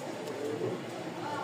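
Giribaj pigeons coo softly and continuously at close range in a short burst, with a low, murmuring tone and light background noise.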